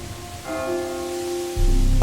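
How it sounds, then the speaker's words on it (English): A church bell tolls with a long, ringing hum that lingers, while a low rumbling rises near the end over steady background noise. "The church bell's mournful toll echoed through the desolate night."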